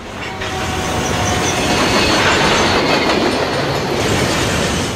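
Train approaching a railway crossing in an Israel Railways TV commercial, a loud rushing roar of wheels and carriages that swells to a peak and stays heavy throughout, with clattering rail noise and no voices.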